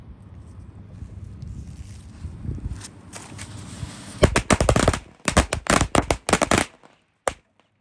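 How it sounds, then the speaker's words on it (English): A classic 50-pack of Black Hat firecrackers pops off in a rapid, loud string of sharp cracks and dense bursts, preceded by a low rumbling lead-in and ending with one last isolated bang. "up next we're gonna move with a classic 50 pack of firecrackers from Black Hat"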